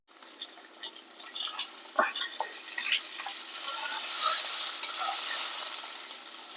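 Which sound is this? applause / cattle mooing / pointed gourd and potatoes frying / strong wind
pointed gourd and potatoes frying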